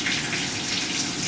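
Water rushing from a shower after its hot water valve is turned on, the valve loose and shaking during a home inspection; a steady, loud, close gush with no pauses.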